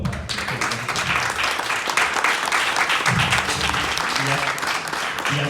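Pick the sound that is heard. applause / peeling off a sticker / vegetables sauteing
applause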